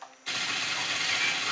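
Sustained rapid automatic gunfire from the James Bond video game GoldenEye, a dense continuous rattle starting abruptly after a brief quiet moment and holding loud to the end.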